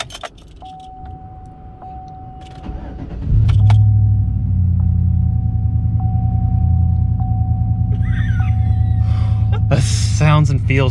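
A father-in-law's pickup truck engine cranks and catches after a jingle of keys, then settles into a loud, steady idle rumble that runs to the end, with people talking nearby.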